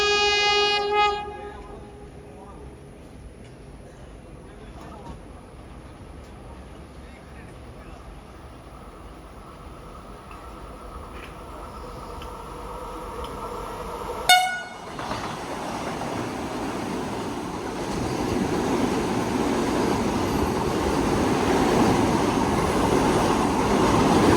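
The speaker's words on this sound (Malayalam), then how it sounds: "വന്ദേ ഭാരതിൻ്റെ ഓവർടേക്കിനായിട്ട് നമ്മളിവിടെ മുളന്തുരുത്തി പിടിച്ച്" Vande Bharat train passing the stationary Palaruvi Express at Mulanthuruthy station: a sharp horn blast, then a swelling rush of wheels and rail noise that grows loud and steady as the train overtakes close by.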